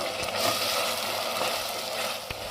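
Ingredients for Chinese-style poha being stir-fried in a pan with a pinch of sugar and salt, a constant moderate sizzle with light scraping from the stirring.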